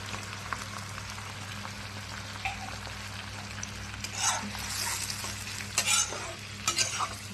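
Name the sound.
chilli paneer sauce boiling in a pan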